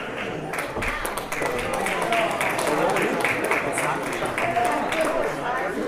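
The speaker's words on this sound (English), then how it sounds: "A little bit of applause, thank you." Audience applause at a Chamber of Commerce gala: a room of moderately distant clapping, steady and dense for several seconds, with a voice speaking faintly underneath.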